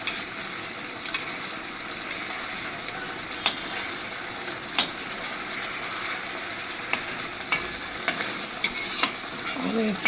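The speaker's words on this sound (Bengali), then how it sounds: "আমি এবার এই মাছগুলো উল্টিয়ে দেবো।" Bata fish sizzle steadily in a pan of hot oil while sharp scrapes and clicks of a spatula turn the pieces at irregular intervals, close and fairly loud.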